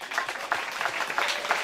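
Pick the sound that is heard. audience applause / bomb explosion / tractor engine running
audience applause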